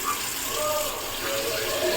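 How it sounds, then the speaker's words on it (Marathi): Tap water runs steadily into a sink while a plate is washed, a continuous close splashing gush lasting about two seconds with no talking. "ओके, आपण प्लेट धुवून घेऊ."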